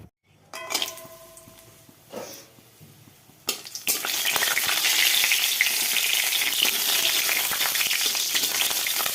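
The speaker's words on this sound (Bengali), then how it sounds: "তো এই যে তেলও দিয়ে দিয়েছি এবার বড়িটা ভেজে তুলে নেবো" Lentil dumplings (bori) frying in hot oil: a few clinks and stirs, then a loud, sustained sizzle and crackle as they hit the oil, continuing steadily and close by.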